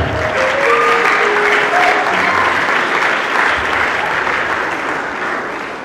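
An audience at a church youth conference morning session claps loudly and steadily as Dr. Patrick is called up, the dense applause swelling then easing slightly toward the end, with faint voices and a brief tone beneath.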